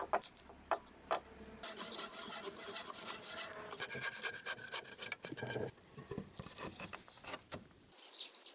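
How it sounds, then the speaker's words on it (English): Hand tools rasp and scrape at wood while saddle notches are carved into logs for an interlocking forest cabin, a steady close scraping with scattered sharper knocks and a brief pause near the end. "Notching, carving saddle notches that lock perpendicular logs together without metal"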